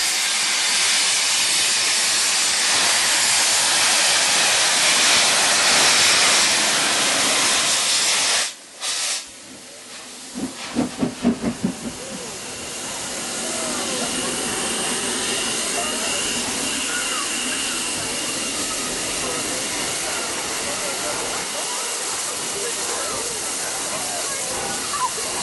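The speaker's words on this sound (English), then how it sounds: "GNR N2 number 1744 leaves Kidderminster on the 10:30 to Bridgnorth" GNR N2 steam locomotive No. 1744 departing Kidderminster on the Severn Valley Railway, a steady loud hiss of steam with a brief burst of sharp exhaust chuffs midway, then a continuing rushing wash of steam and motion.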